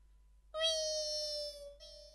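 A performer on a Malayalam comedy stage imitates a cat crying while fish is being cut, voicing one long, plaintive, tonal meow that holds steady and briefly catches before ending.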